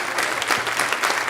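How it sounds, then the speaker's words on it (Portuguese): A church congregation claps together in a brief burst of applause, a dense, even patter of many hands at moderate distance, with no voices rising above it. "Você pode aplaudir ao Senhor por isso."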